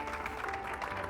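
An audience at a political leadership seminar applauds the first speaker, a short burst of dense, steady clapping from a room full of people.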